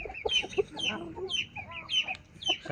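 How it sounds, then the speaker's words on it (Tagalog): Backyard chickens clucking and calling in a steady, busy stream of short squawks and clucks at close range, with no talk over them. "ito po ang pinakamatanda sa ating manok dito"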